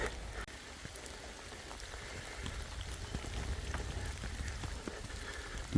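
Rain falling steadily on a countryside dog walk in Wiltshire, a soft continuous patter with scattered drip clicks, fairly faint and even throughout, a louder rustle at the very end.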